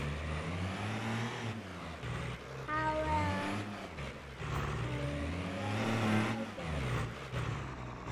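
A truck engine in Farming Simulator 22 driving off-road through rough, watery terrain, its mid-pitched drone revving up and down repeatedly, close and steady without any talk.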